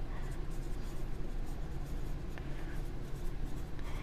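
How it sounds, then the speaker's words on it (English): Pen or pencil scratching across a paper form as a student signs a first and last name, a steady close scratching that runs continuously with no talk. "you're going to write your name."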